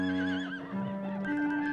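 A horse whinnies in a long, wavering neigh that rises and falls through several pitch swoops, loud and close, with no voices over it.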